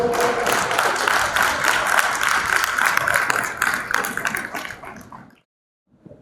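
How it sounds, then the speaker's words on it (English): Sustained audience applause at a JITO business event in Bangalore, a dense even wash of clapping that holds steady for about five seconds, then stops abruptly into silence. "Please give a big round of applause"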